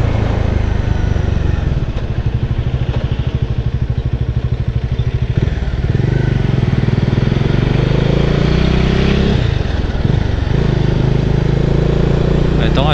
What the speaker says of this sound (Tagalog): Maganda dito sa Dominar, malakas ang makina niya.